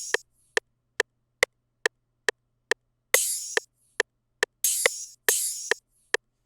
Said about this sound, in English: Then guys, we have this open hat, which is going to sound like this.